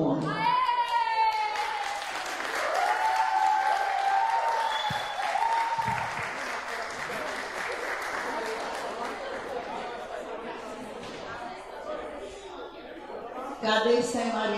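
Audience applause at an education, technology and inclusion conference, many hands clapping steadily with chatter and voices over the top, swelling again near the end.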